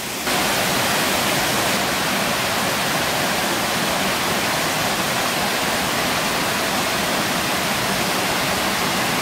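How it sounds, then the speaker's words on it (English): Upper Cascades waterfall on Little Stony Creek in Jefferson National Forest, Virginia, roaring as a steady, loud, broadband rush of falling water close by, unbroken for the whole stretch with no talking. "Upper Cascades on Little Stony Creek."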